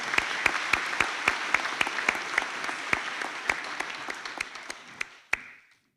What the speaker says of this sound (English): Please, can you give a round of applause for the graduating class?